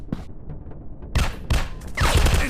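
Gunfire in a first-person counter-terrorist shooter game, with several loud bursts of rapid shots spaced across a couple of seconds, ending in a denser, sustained volley.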